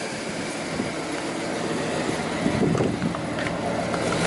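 A van's engine idles through aftermarket ricer exhaust tips, a steady low bass rumble heard close to the tailpipe, droning evenly with slight swells and no talking.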